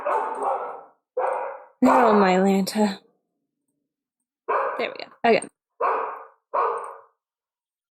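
Several dogs barking indoors in a series of sharp, fairly loud separate barks with gaps between them, while someone speaks a few short words partway through.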